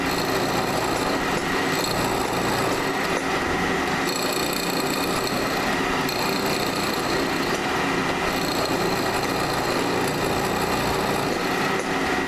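A milling machine runs steadily throughout, a sharp quarter-inch two-flute end mill cutting about a tenth of an inch per pass into a prop adapter part, giving a continuous loud whine with layered high tones and no talk.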